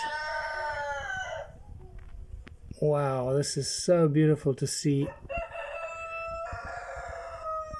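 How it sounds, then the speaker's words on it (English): Roosters crow loudly in a few overlapping cock-a-doodle-doos, with a person speaking before and after the crowing. "Not sure why the roosters have just gone crazy like that"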